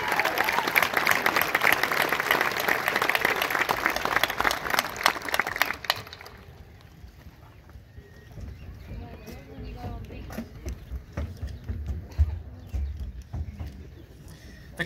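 A graduation crowd gives a loud, dense round of applause that stops abruptly partway through, leaving quieter room noise with scattered faint claps and low rumbles afterward.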